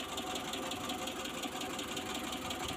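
Rough idle from a Suzuki Carry Extra engine, heard close and steady, with a continuous knocking, ticking chatter layered over the running drone and no talking.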